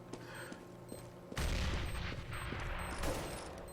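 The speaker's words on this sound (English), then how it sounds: "HE grenade gets a little bit of damage." An HE grenade explodes and gunfire rattles on the dust2 map in Counter-Strike, with a few sharp shots followed by a loud burst of blasts, then another heavy boom.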